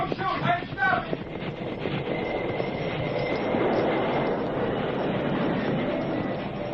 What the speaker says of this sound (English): Stop that train!